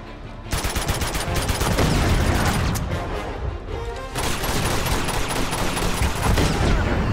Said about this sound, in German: da hat der Panzer mal geschossen